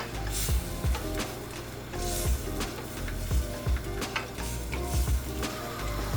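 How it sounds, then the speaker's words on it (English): A spoon stirs cherry tomatoes into a sizzling pan sauce for squid ink spaghetti with prawns and squid, giving a steady frying hiss broken by soft clacks and scrapes of stirring. "We give it a good mix."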